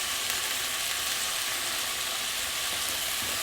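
Cooked Szechuan noodles and sauce from a Sharwood's kit are stir-fried in a hot pan, giving a loud, continuous sizzle with scattered crackles throughout and no talking.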